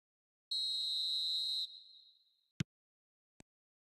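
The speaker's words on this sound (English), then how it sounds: "Whistle goes, and we start the second half." A referee's whistle signals the start of the second half in a football video game, one clean sustained blast of about a second that trails off, followed by two faint clicks, no voices.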